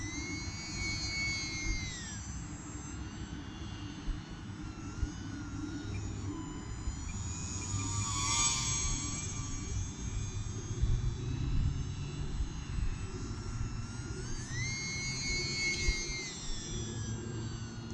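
An E-Flite UMX Cirrus SR22T RC plane makes a speed pass, its high electric whine steady, then rising and falling in pitch as it sweeps past and away, with a gust of wind rumbling beneath the whole pass.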